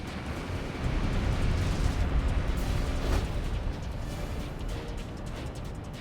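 A big in-game explosion as a target is destroyed in the combat flight game Ace Combat 6, a loud, sustained rumbling boom with a low roar that swells and lingers for several seconds.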